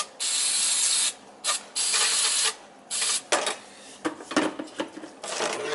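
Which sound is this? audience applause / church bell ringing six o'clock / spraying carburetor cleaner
spraying carburetor cleaner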